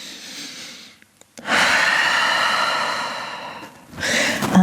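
Deep, drawn-out breathing during a yoga flow, a long loud exhale swelling after a brief pause and fading, then another breath rising at the end, close and alone.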